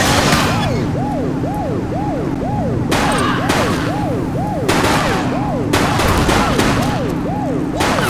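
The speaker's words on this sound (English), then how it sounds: "Shots fired!" Gunfire in the police video game The Precinct, several loud sharp bursts breaking in at irregular intervals over a wailing police siren and steady city traffic noise.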